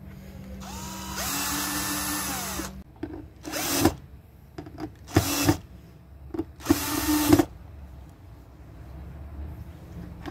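A power drill runs in a long burst, then in several short, sharp bursts with quiet gaps, driving screws one after another while fitting TV sockets in a caravan.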